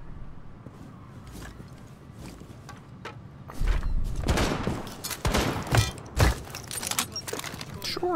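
Rainbow Six Siege gunfire: bursts of shots and loud impacts break out over a quiet in-game background, with a few thuds and mechanical clicks, while a player voice talks over it.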